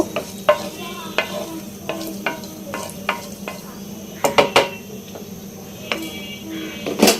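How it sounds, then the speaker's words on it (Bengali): Fenugreek seeds sizzling and crackling in hot oil, with a steady frying hiss punctuated by sharp pops and occasional stirring clinks. "মেথির ফোড়ন দিয়ে দিলাম। তেলটা অবশ্যই গরম হয়ে গেছে"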